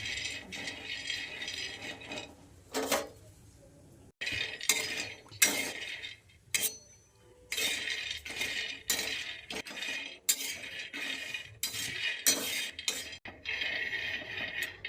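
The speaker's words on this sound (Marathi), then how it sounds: "तर आपण पहिले शेंगदाणे भाजून घेऊयात मस्त. बारीक गॅसवर लाल होईपर्यंत शेंगदाणे भाजायचे." Peanuts roast in a pan over a low gas flame, rattling and clinking as they are stirred and tossed in irregular bursts, close and moderately loud.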